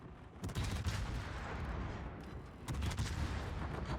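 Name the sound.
warship 150 mm guns firing AP shells, video game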